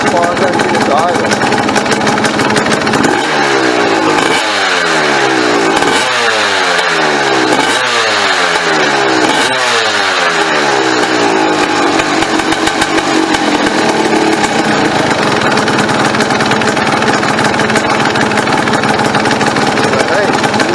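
A 1989 Suzuki RMX 250 two-stroke dirt bike with a new carburetor holds a loud, raspy high idle, with several quick throttle blips rising and falling early before settling into a steady close drone.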